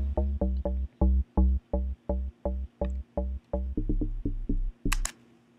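Deep house synthesizer bass with a plucky knocking attack, playing a steady run of short, evenly spaced punchy notes, loud and alone, ending with a brief high blip.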